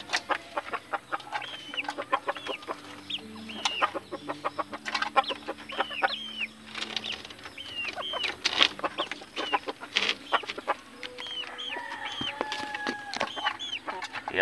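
A labuyo rooster named Kidlat and a bantam hen clucking near a coop, repeated soft clucks and short calls, close and clear, with faint background birdsong.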